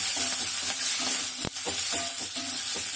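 Pirandai leaves and spices crackle and sizzle steadily in a hot pan, with a continuous bright fry hiss, light stirring taps and a sharp pop midway.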